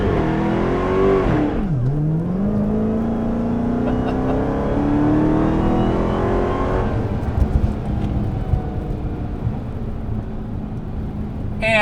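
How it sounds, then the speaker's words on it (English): A 2020 Dodge Charger SRT Hellcat Widebody launches with launch control, its supercharged engine roaring loud and close as revs climb through several gear changes, then easing off. "for launch control, you can just hit the launch button here. Hold your foot on the brake, get ready, hold on"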